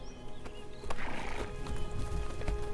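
Horse whinnies and clip-clopping hooves from Lego The Hobbit video game, a clear neigh rising mid-clip over steady hoofbeats and background game music.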